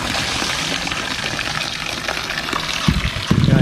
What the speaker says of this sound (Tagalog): Yan ang talagang spring mga kabrando. Nature spring.